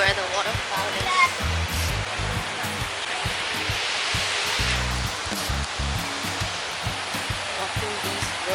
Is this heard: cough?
no